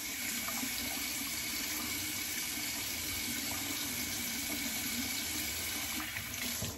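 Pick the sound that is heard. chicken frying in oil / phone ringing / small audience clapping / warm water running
warm water running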